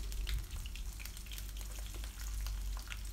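Small shallots and garlic fry in oil after mustard seeds, a soft bubbling sizzle with light crackles and a low hum underneath for kara kuzhambu.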